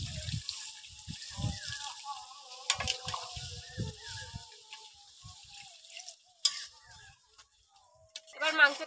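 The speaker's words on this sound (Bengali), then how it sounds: "এবার জল দিয়ে দেবো।" Water is poured into a village-style red country chicken curry, making faint, uneven splashing and trickling bursts with quiet gaps between them.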